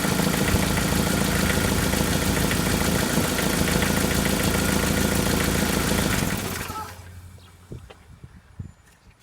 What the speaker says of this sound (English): I'm going to go ahead and shut the engine off and see if it's stable and where it's landing.